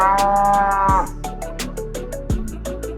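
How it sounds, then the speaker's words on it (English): A cow gives one long, loud, close moo that drops off after about a second, followed by rhythmic clicking and knocking sounds. "The answer is D. Cow."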